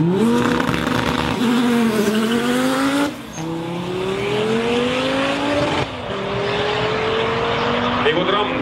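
A 1000+ hp Audi 80 B4 Quattro 2.2T 20v with a GTX3584RS turbo on a 1/8 mile drag run, loud engine roaring up through rising pitch sweeps with brief drops at gear shifts.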